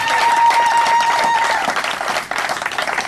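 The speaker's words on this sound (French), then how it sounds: "est-ce qu'on peut applaudir?" An audience claps steadily for about three seconds at a youth committee investiture held by a democratic labour confederation, applause dense and sustained with a brief dip near the end, a faint steady tone running beneath it for the first half.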